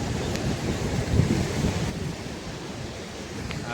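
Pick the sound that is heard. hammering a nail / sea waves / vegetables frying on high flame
sea waves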